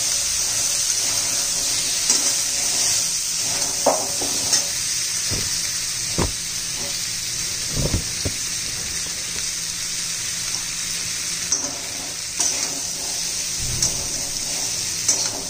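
Drumstick pods stir-fried in spiced oil in a pan make a steady, loud hiss, with scattered scrapes and clacks from stirring.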